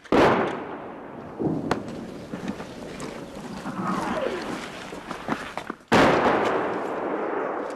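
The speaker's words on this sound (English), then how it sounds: "The shells start landing closer as the Russians adjust their aim." Russian artillery shells land nearby on a Ukrainian front line, with a heavy blast at the start and another sharp one partway through, each followed by a long rumbling roar, plus scattered cracks and debris between them.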